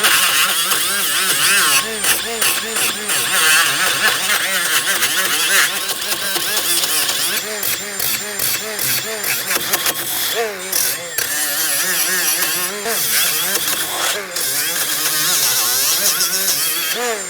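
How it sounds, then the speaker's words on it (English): A small power tool whirs with a fluctuating, grinding pitch as a wire brush and small sanding disc scour a rear wheel hub between the lug studs on a 2004-2008 Pontiac Grand Prix, interrupted by brief bursts, with a voice talking over it. "For this, I'm just using a small sanding disc and a wire brush."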